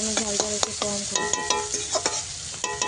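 Onions frying in a pan, with a steady sizzle broken by sharp metallic clinks of a spatula stirring and scraping, close and loud, while someone speaks briefly.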